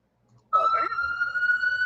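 An ambulance siren starts abruptly and holds a steady high wailing tone for the rest of the short clip, loud and close, with a faint voice underneath at the start.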